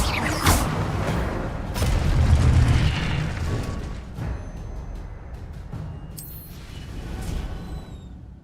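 A fire spell effect in a video game erupts as a heavy booming whoosh with rumbling bursts, swelling around the middle, then fades into smaller pops and crackles.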